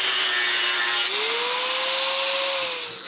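A power tool cuts through the ends of steel lag screws being prepared for welding into shutters for a chalet, a loud steady whine whose pitch sags under load and rises again, running alone without pause.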